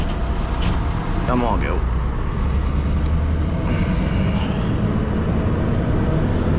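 A Scania R620 V8 truck engine drones low and steady as it pulls through the gears on a New Zealand road, with road noise around it and a voice talking briefly over it.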